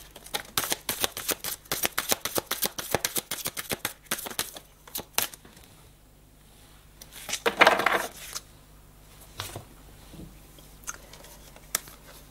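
Tarot-style cards being shuffled and dealt close up, a quick run of crisp riffling snaps and slaps, then a pause and a few scattered flicks and a soft swish as cards are laid out, no talking.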